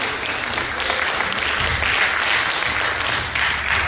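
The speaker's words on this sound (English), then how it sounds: "Let's clap for our presidents." An audience at a theological seminary graduation ceremony claps for the seminary presidents, a steady, moderately loud patter of applause from a hall full of people, holding even throughout.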